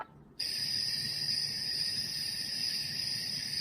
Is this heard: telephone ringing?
no